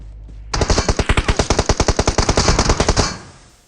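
Automatic gunfire in the video game PUBG, a rapid burst of about twenty evenly spaced shots lasting some two and a half seconds, loud and close, with no talk.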